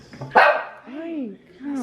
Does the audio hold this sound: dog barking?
yes